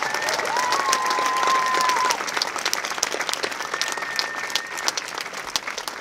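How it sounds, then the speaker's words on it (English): A high school graduation crowd applauds the Class of 2022, thick sustained clapping mixed with whistles and scattered cheers, loud and continuous throughout, with faint voices in the mix. "please join me one more time in applauding these students for their commitment to social justice."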